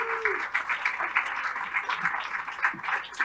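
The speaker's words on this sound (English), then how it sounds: "Please give one more big round of applause for all 4 of our supervisors of elections" An audience claps for four election supervisors at a Tiger Bay Club of Central Florida event, a moderate patter of applause from a mid-sized crowd, slightly distant and steady.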